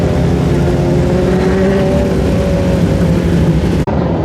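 Speedway race car engine roaring steadily at Goulburn speedway after a push start, loud and close with layered engine tones from other cars, continuous until a brief cut near the end.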